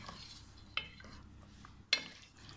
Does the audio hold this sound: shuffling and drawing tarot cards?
no